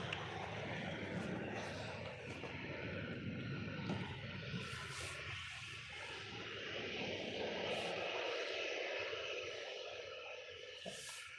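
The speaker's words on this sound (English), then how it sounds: "And that one's up and away off to Minorca." Airliner taking off from Manchester Airport, heard as a distant, fairly faint jet roar that holds steady while people talk over it.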